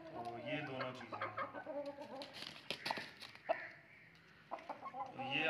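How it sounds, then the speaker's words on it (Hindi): A white Aseel rooster clucks in short, quiet bursts at close range, with soft murmuring and faint background sounds around it. "ये मुर्गा है माशाल्लाह"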